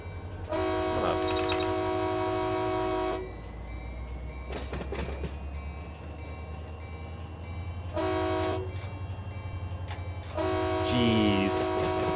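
A BNSF freight train rolls past in Run8 Train Simulator, its multi-tone horn blasting in several long bursts over a steady low rumble and rail noise, loud and close.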